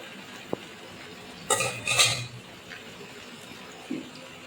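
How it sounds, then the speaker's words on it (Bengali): A utensil scrapes and clinks against a pan while pangas fish roe and oil are stirred into potatoes, two short clattering bursts near the middle with a single tap earlier, close and fairly quiet. "তারপর পাঙাশ মাছের ডিম আর তেলটা দিয়ে দিচ্ছি। এবার এগুলোকে ভালো করে নাড়াচাড়া দিয়ে নেব।"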